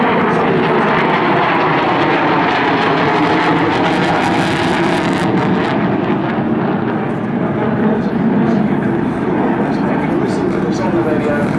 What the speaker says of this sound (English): later on you'll see Stellan fly this aeroplane very slowly and rocking the wings from side to side